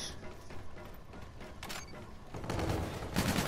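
Gunfire in the Infinite Warfare multiplayer shooter game: a fairly faint burst of rapid shots building toward the end, with mechanical clatter mixed in.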